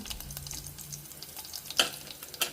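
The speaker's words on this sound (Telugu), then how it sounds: "అండ్ పచ్చిమిర్చి వేస్తున్నాను" Green chillies dropped into hot tempering oil for dal, giving a steady low sizzle with a couple of sharp spatter pops near the end, close and moderately quiet.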